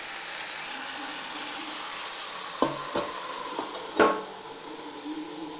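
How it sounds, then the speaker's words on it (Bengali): Potatoes cooking in masala on low heat in a pan for chicken korma, a quiet steady hiss and sizzle broken by a few brief clanks and scrapes of utensils or a lid. "আলুগুলোকেও ভালো করে মশলার সাথে মিশিয়ে আমি লো আঁচ করে ঢাকা দিয়ে দিচ্ছি।"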